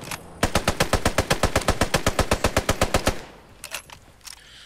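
Machine-gun fire in the World War II shooter Post Scriptum: a loud, steady burst of about twenty rapid rounds lasting nearly three seconds, then scattered fainter shots and quiet background.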